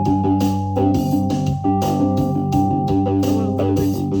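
A synthesizer with its filter cutoff turned all the way down plays a steady, dull, muffled pattern of sustained low tones, loud and continuous without pauses or voices.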